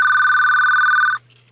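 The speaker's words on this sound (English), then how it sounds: "I can't stand the sound of a ringing phone." A telephone bell rings loudly and steadily in a continuous trill for just over a second, then cuts off abruptly, leaving only a faint low hum.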